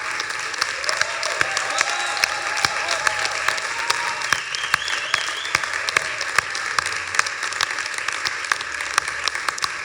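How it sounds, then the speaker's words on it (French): An audience applauds the laureates at the Prix de l'Ailleurs 2019 award ceremony, a steady wash of many hands clapping continuously with sharper individual claps standing out, and no talk over it. "on peut les applaudir"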